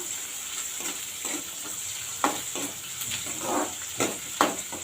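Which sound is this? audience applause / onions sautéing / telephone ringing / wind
onions sautéing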